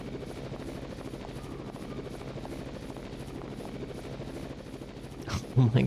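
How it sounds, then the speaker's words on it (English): A video-game helicopter with a steady, dense rotor thump running throughout at an even level, followed by a few louder sharp bursts right at the end. "let's get to the helicopter and get out of here"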